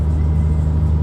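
A Mini Cooper R56 cruising in sixth gear at highway speed around 3,000 RPM fills the cabin with a steady, loud, low exhaust drone under a constant rumble of road noise.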